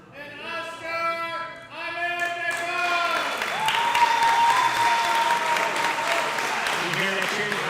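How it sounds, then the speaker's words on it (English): A home crowd at a grappling tournament breaks into loud, sustained cheering and applause that swells and holds steady, while a voice speaks over the opening seconds. "You hear that cheering for Askar?"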